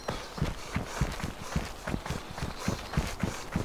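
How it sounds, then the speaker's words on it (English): Quick, evenly spaced footsteps inside a barracks building in the video game DayZ, a rapid soft thudding run at moderate distance with no talk over it. "I heard footsteps then. There's someone inside the barracks."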